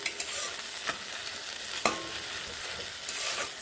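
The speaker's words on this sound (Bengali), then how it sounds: "মশলাটিকে বেশ ভালোভাবে কষিয়ে নেব" Spice paste frying in a pan for a vegetarian broccoli dish, a steady sizzle broken by several sharp scrapes of a spatula stirring, close and fairly quiet with no talking.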